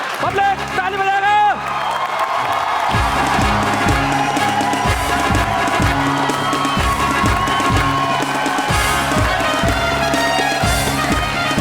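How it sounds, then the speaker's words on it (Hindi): A live audience at a Hindi comedy poetry show claps and cheers loudly and steadily, with whoops rising over dense, continuous applause and a voice briefly heard at the start. "पब्लिक ताली बजाएगा।"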